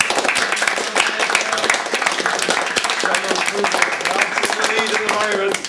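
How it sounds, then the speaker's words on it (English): A game jam audience applauds a team's entry, a dense steady crackle of many hands clapping at close range, with voices mixed in throughout. "round of applause, please"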